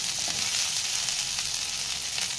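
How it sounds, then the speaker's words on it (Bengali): Potatoes fry in a wok with turmeric and salt, giving a steady, dense sizzle that stays even and close throughout, with no talk over it. "দিয়ে আলুগুলোকে আমি ব্রাউন ব্রাউন করে একদম ভেজে নেব"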